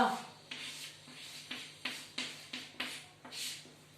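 Chalk or marker strokes on a board during a Hindi lesson on conjunct letters, a series of short scratchy strokes about every half second, fairly close, with a faint voice in the background.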